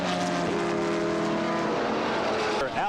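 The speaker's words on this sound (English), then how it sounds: "these big GTP cars make their way around the circuit" GTP prototype race cars circling the Watkins Glen road course during an IMSA race, a loud, sustained engine drone with shifting pitch as the cars pass, the roar continuous throughout.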